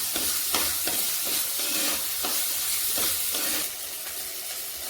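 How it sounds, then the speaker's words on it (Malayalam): Small shallots and chopped garlic sizzle in hot oil in a pan for a Kerala-style cauliflower curry, with a steady frying hiss broken by repeated scraping stir strokes and no talking. "കൊച്ചുള്ളി ഇടാം. ഒന്ന് വഴന്ന് വരണം."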